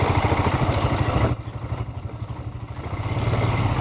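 Motorcycle engines idling nearby, a loud low throbbing putter that dips briefly in the middle before building back to a steady rumble, with no talk.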